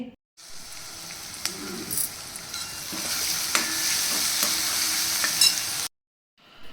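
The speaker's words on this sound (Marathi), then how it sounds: "तेल टाकून घेते जिरा मोहरीची फोडणी द्यायची" Cumin and mustard seeds sizzle loudly in hot oil, a steady crackling hiss for several seconds that cuts off abruptly.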